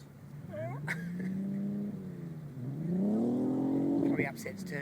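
A supercharged V6 Commodore engine fitted in a Corolla revs up and down in smooth rising and falling sweeps, fairly close, while people talk over it.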